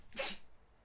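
A single brief, fairly faint sneeze, a sharp burst that fades quickly into quiet room tone.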